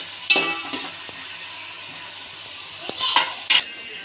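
Chopped onions sizzling in a pan for pav bhaji, a soft steady hiss broken by a few clinks and scrapes of a spoon stirring against the metal.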